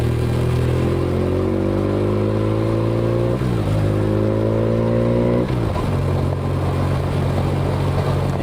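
A BMW R 1150 RT motorcycle fitted with a new exhaust rides steadily, its engine note loud and close, climbing in pitch and then dropping sharply with each of two gear changes, with no talk.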